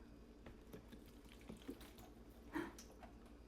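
Fertilizer-mixed water poured onto soil in a freshly repotted houseplant, a soft trickle and splash with a brief louder spill near the end, quiet and close with no talking.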